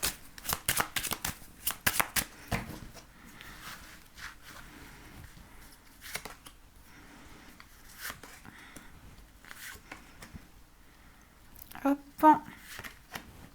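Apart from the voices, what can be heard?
tarot cards being shuffled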